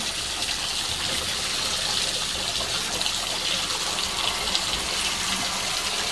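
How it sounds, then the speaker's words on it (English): A shower is switched on indoors and water runs steadily, a continuous broadband rush and trickle that stays even and unbroken with no voices. "Now I'm going to turn the shower on."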